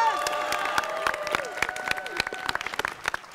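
At a graduation prize ceremony, a crowd gives loud, dense applause with scattered cheers for a prize winner, steady and close throughout, with a voice carrying over the clapping.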